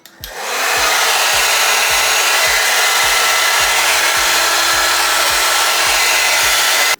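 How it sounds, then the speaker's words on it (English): A hair blow dryer on its cool setting runs as a steady, loud whoosh from start to finish, switched on at the beginning and held close while drying layers of a blonde-highlighted frontal wig. "I'm going in with my blow dryer on the cool setting to let this dry a little quicker"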